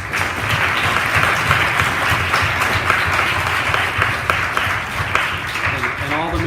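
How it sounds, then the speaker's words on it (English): A large audience applauding loudly and continuously after a presentation, with scattered sharper claps standing out from the sustained roar. "that applause was for you."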